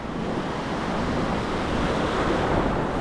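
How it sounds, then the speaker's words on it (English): Ocean surf breaking steadily on Rockaway Beach, Oregon, a loud continuous wash of waves with gusty wind buffeting the microphone, no voices. "any of these bigger waves that come by and splash me"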